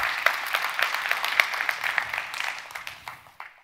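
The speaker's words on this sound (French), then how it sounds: "si je peux vous demander un tonnerre d'applaudissements pour ces sponsors" A conference audience applauds for the event's sponsors, with dense, steady clapping close by that thins out and fades away over a few seconds.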